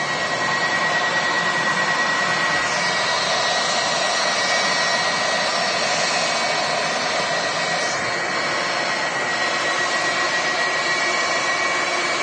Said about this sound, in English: another wide-body departure. Good to see Air Transat using this heavy aircraft instead of the standard A321 LR